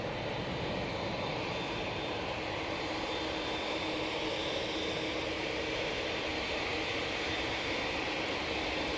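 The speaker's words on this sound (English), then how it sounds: "This TUI 787-8 Dreamliner is now off to Tenerife." A TUI 787-8 Dreamliner departs Manchester Airport for Tenerife, its engines a loud, even roar that holds steady for the whole stretch with no voices over it.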